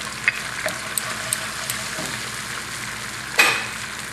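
Oyster sauce hitting a hot pan for a quick garlic noodle sauce, with a steady sizzle, a few light clicks and a louder spatula scrape near the end.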